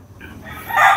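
Tornado Perfection two-way pullets, Mt. Banahaw line chickens, let out a short crowing call that swells louder toward the end, close by with a faint background hum.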